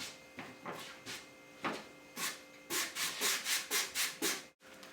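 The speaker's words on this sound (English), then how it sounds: "clean it up with a bristle brush, try to get some of the loose stuff off of it" A stiff bristle brush scrubs across live-edge cedar wood in repeated back-and-forth strokes, slow at first and then quicker and more regular, close and fairly loud.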